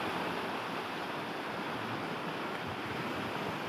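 Floodwater from the Manari Lothar bazaar bridge area in eastern Chitwan rushes along the river in a steady, dense roar that stays even and fairly close for the whole stretch, with no voices.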